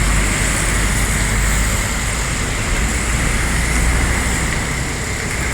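A bus from Unsri passes on a roadway, a steady loud broadband roar of engine and road noise that fills the clip with no clear rise or fall, heard alone without talk.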